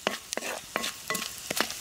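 Cardamom pods and cumin seeds frying in a pan, stirred in quick strokes that give repeated short scraping bursts over a light sizzle.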